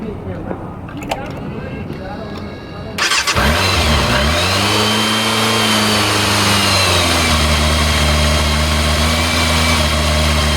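A 1994 Yamaha FZR600 motorcycle cranks and fires up after a few seconds of quiet handling noises, revs briefly, then settles into a close, steady idle with a rough, loud tone.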